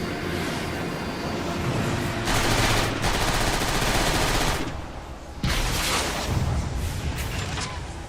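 Sustained rapid gunfire from the video game Transformers: War for Cybertron, loud dense bursts with a brief lull before firing resumes, mostly without speech.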